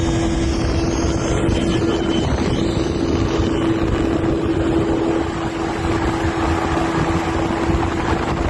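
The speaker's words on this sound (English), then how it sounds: "The Sikorsky Sea Dragon" A Sikorsky Sea Dragon mine-countermeasure helicopter gives a loud, continuous roar of engine and rotor wash with a steady humming whine and wind-like rush throughout, no voices.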